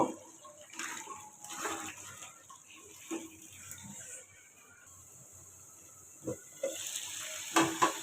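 Qurbani meat sizzles and fries in its own released oil with a steady hiss, punctuated by occasional clinks and scrapes of stirring, fairly quiet and close with no talking.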